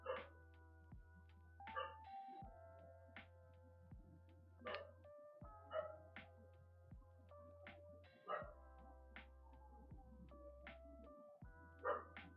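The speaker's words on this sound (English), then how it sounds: "we need to feed the dogs" Household dogs bark and yip intermittently, soft and somewhat distant, with single barks spaced a couple of seconds apart over a steady low hum.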